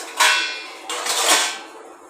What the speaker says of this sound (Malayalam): നെയ്യും ഏലക്കയും ഇട്ടാണ് ഞാൻ ഇളക്കുന്നത്.